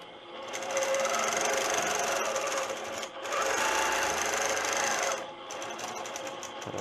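A sewing machine runs in long, steady bursts during freehand quilting with clear thread, a loud, close, whirring stitch hum that pauses briefly around three seconds and eases off near the end.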